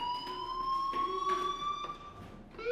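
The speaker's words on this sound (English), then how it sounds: "Hey, do you hear that fire alarm?" A school fire alarm rings continuously in Life is Strange, a steady electronic tone held throughout under faint background movement.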